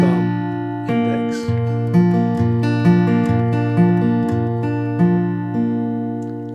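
A fingerpicked acoustic guitar plays a song's pattern, with an alternating thumb bass and plucked treble strings ringing in a steady rolling rhythm, close and clear with no voice.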